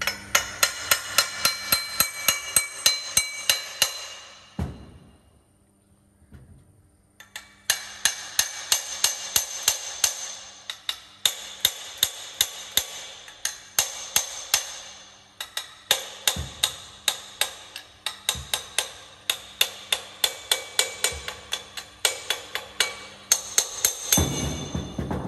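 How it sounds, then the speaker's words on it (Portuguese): A hammer strikes metal while a BMW turbocharger is taken apart in a workshop. Sharp, ringing blows come in steady rapid series, with one short pause and several heavier hits, loud and close. "Sim, usámos o martelo"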